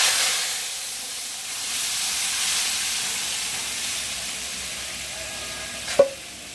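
Hot oil tempering (baghar) sizzles for fish head muri ghonto, a steady broadband hiss that rises and holds for several seconds, ending in a brief sharp clink near the end.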